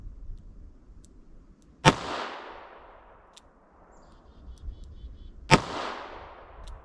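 A Ruger LCR revolver fires .32 S&W Long Buffalo Bore hard cast rounds: two sharp, loud shots a few seconds apart, each followed by a short ringing decay.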